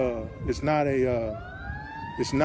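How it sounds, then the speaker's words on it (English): A fire truck siren wails as it passes on a street, loud and nearby, its pitch rising and falling in sweeping tones while a person keeps talking over it. "Sorry about the fire truck going by."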